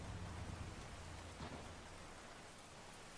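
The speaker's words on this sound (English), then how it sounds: "Out into the rain." Rain falls in the horror video game The Beast Inside, a steady, fairly faint hiss with a low rumbling undertone that fades slightly as it goes on, with no voices.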